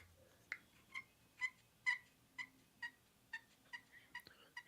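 A voice imitates an American coot's call with a series of short, nasal honking clucks, about ten evenly spaced notes, fairly quiet.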